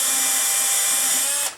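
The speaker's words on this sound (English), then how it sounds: "You want to be real careful when you're drilling this and not drill too far." Loud, steady whine of a power drill drilling into an FS GT3B RC radio transmitter for a bearing mod, running continuously at close range, cutting off abruptly near the end.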